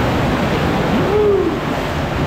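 Ocean waves surge and break loudly at the mouth of a sea cave off Arraial do Cabo, a continuous close roaring wash with a brief rising whoosh in the middle.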